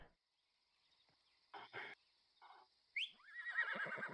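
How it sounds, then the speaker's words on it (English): A horse in the Western video game New Frontier lets out a bright, descending whinny near the end, loud and close, after a couple of short bursts of background game sound. "I see somebody's horse here"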